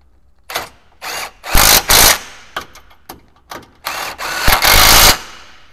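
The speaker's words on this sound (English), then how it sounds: "we'll torque up the bolts" A power tool torquing bolts while fitting a Predator bar to a 2022 Suzuki Jimny JB74, loud close whirring bursts of varying length, some brief and some over a second, separated by short pauses.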